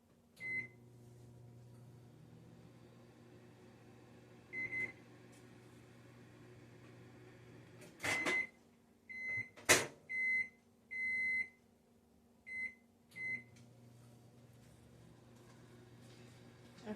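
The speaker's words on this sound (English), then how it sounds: "I'm going to put this in the microwave and let that melt." A microwave oven runs with a steady low hum while melting cubed butter, then a series of short electronic beeps sounds near the end before the hum resumes, with faint door or handling clicks.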